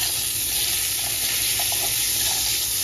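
Steak frying with garlic butter, or lard that the cook likens to it, giving a loud, steady, close-up sizzle that runs unbroken throughout with faint pops and no talk.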